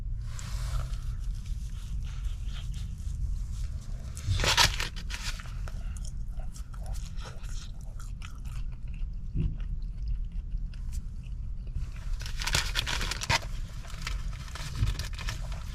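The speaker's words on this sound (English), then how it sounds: "Actually, that was a good bite of cheese right there." Close biting and chewing of a Starbucks spinach and cheese breakfast item, with soft crunchy bites and moist chewing in repeated bursts that grow stronger near the start and end.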